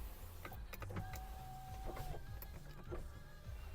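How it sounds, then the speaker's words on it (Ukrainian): Electric windows on a Volkswagen Touran 1.6 MPI moving, a faint motor whir with soft clicks and thumps as the glass travels and stops, quiet interior setting. "По електриці в нас склопідйомники працюють, задній працює"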